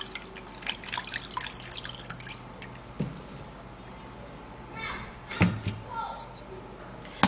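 Ingredients for a blended drink rinsed under a running kitchen tap, with soft splashing and scattered drips, fairly faint, while a person talks over much of it.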